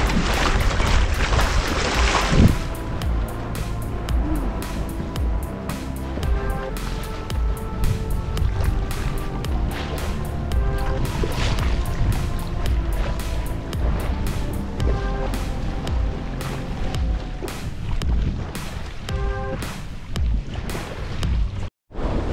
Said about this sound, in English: it's sailing nice actually right now. Auto helm's keeping up, which is good.